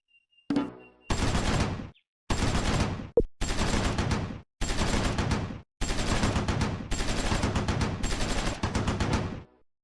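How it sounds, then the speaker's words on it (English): Sustained machine gun fire from a platoon opening up on troops in the open in Close Combat 4, a Battle of the Bulge wargame at Baugnez, heard as several loud bursts of dense rattling shots with short gaps between them. "First platoon opens up on troops in the open."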